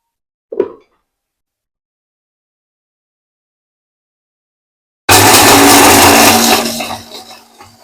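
A mixer grinder whirs loudly as it grinds curry leaves and fennel seeds. It starts abruptly after a brief knock and a long silence, then runs steadily for about two seconds before winding down.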